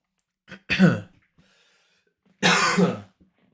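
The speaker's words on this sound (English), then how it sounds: "Sorry about my coughing." Two separate harsh coughs, one near the start and another about two seconds later, close to the microphone with silence in between.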